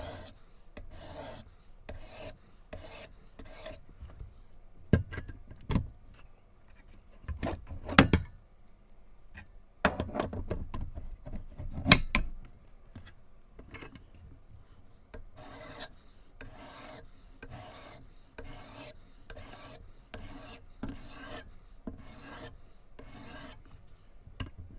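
Work Sharp Pro sharpener grinding the base of a Kershaw Bracket knife blade on an 800 grit stage, giving repeated rhythmic rasping strokes, several short bursts early and a steady series of close, even passes toward the end.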